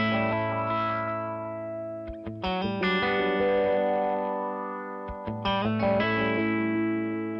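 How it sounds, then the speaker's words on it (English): Distorted electric guitar through a wah effect synced to tempo on a compact pedalboard, with sustained chords whose tone sweeps rhythmically, a short choppy burst of notes in the middle, and no talking. "this wah setting, I have it set to be set to the tempo"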